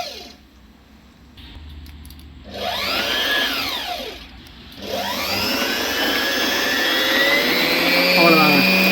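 A Singer 1304 electric sewing machine runs in bursts as its foot regulator is pressed. The motor whirs loud and close, its pitch sweeping up and down with speed, with a brief pause between runs and a voice speaking at times.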